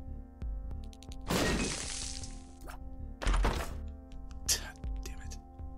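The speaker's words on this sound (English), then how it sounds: "I think we use the bomb here." Bomb blast in The Binding of Isaac: Afterbirth+, a heavy thudding crash with a crumbling tail, followed by a second sharp impact, over looping game music with a voice talking at times.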